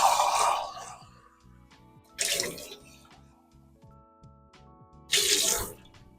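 Three short bursts of running water from a tap, each a second or less, separated by quiet gaps with faint background tones.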